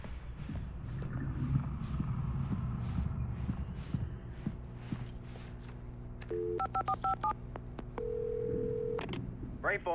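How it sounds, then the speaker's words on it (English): Telephone keypad dialing in the Alan Wake video game, a run of short evenly spaced DTMF beeps followed by a longer steady tone, heard over background game ambience and low rumble. "I had to get inside the gas station to find a phone to call for help."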